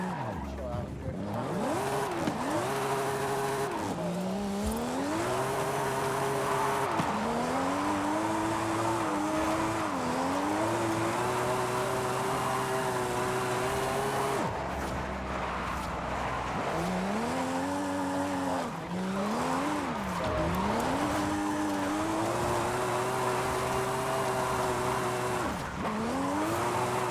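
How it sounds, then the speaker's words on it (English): A car drifting in Forza Horizon 5, its engine rising and falling through repeated gear changes while tires squeal in long sweeping slides, steady and close throughout with brief quieter gaps between slides. "Chill out and drift."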